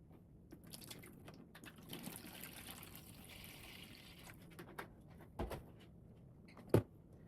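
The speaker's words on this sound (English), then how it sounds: "I'm going to put a little bit of the ocean water in here." Ocean water trickles and pours softly into a tray of radish microgreens, a faint, quiet splashing with a few small drips and splats near the end.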